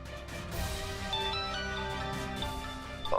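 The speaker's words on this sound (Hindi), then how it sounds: "बॉस का फोन आ रहा है" A mobile phone ringing with a melodic electronic ringtone as the boss calls, steady tonal notes repeating at moderate loudness, alone without talk.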